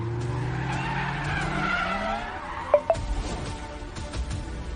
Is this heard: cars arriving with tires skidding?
yes